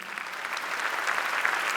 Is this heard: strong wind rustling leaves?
no